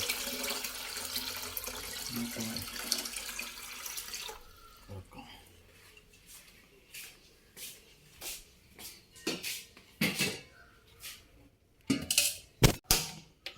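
Drinking water is filled from a running tap that splashes loudly for several seconds, then stops, followed by a series of irregular drips and small splashes of water.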